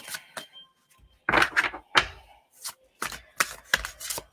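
Playing cards are shuffled in quick bursts for a live reading: sharp riffling flutters and taps, separated by short pauses, close and clear.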